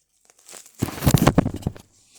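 Adhesive tape pulled and torn off a roll while crafting a squishy from a plastic bag, a close crinkly ripping burst about a second long, alone with no talk.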